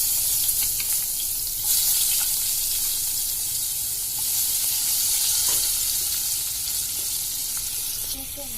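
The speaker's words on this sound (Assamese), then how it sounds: "সেই ৰৈ যোৱা তেলখিনিৰে পিঁয়াজকণ ভাজিম।" Onions fry in oil left over from frying pakoras, giving a loud, steady hissing sizzle close up, with light stirring clatter and slight swells in intensity.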